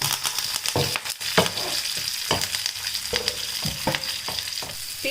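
Onion and curry leaves sizzle in hot oil with cumin and asafoetida, tempering for a ridge gourd sambar. A steady, close frying hiss runs throughout, broken by several sharp stirring scrapes and clatters of a spoon in the pan.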